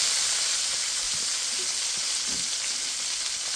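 Burgers sizzle on a grill outdoors at a farm, a steady close frying hiss with faint scraping, no talk.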